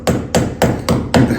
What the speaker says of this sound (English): So what we do now is just see these home with the hammer